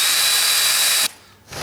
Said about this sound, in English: I'm going to pre-drill some holes.